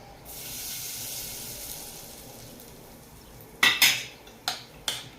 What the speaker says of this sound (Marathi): गॅस बंद करून ही फोडणी यामध्ये वाटायची आहे